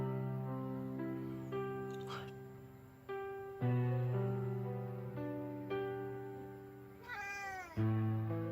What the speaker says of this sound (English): That was his last meow.